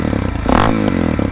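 A motorcycle fitted with an FMF exhaust revs up loudly and close, a deep throaty growl that rises and falls over a rattling idle.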